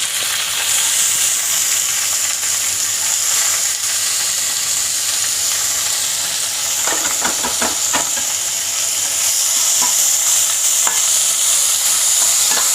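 Onions fry in a pan with mustard seeds and cumin in a home kitchen, giving a loud, steady sizzle and hiss with a few scraping stirs partway through.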